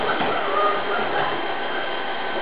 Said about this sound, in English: The robot vacuum cleaner go to the other side of the table